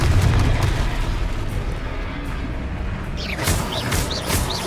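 The Confringo blasting curse explodes in Hogwarts Legacy: a heavy booming blast at the start, then rumbling debris and sharp sparkling magical whooshes near the end.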